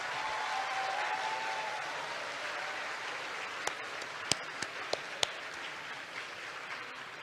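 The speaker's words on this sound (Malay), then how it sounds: "memberikan tepukan yang gemuruh buat Yang Amat Berhormat Perdana Menteri dan semua alumni kita di sini yang hebat-hebat belaka" A large crowd at a law faculty golden jubilee gives a broad, rumbling round of applause for the Prime Minister and alumni. It is sustained and even, with a few sharper claps standing out near the end.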